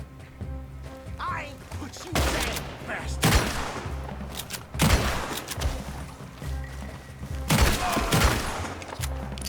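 Gunfire from the video game Red Dead Redemption 2 during a bandit hideout camp mod. Several loud bursts of rapid shots arrive in clusters, separated by short pauses, over a low game ambience.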